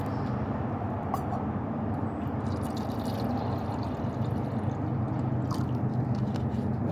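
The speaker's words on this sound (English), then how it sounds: "going to add some water" Water is poured into a can set over a small outdoor fire, giving a steady low bubbling and hissing wash with a few faint drips and clicks throughout.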